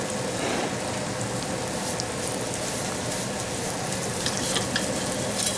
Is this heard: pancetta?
yes